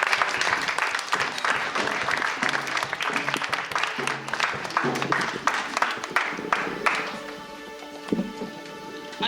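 A church congregation at an evangelical service in Beauvais applauds loudly and steadily, dense clapping filling the room, with a few voices underneath and the clapping thinning toward the end.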